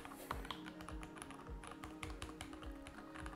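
Rapid, uneven clicking of keys on a mechanical keyboard, steady typing with crisp individual keystrokes close to the microphone.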